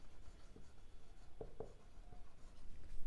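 Pen writing on paper during a math lesson: soft scratching strokes with a few sharper taps, faint and close, no voices.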